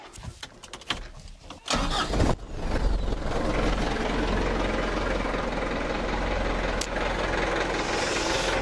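A car engine cranks with a few uneven starter bursts, then catches and settles into a loud, steady idle that runs on close by until the end, with no one speaking.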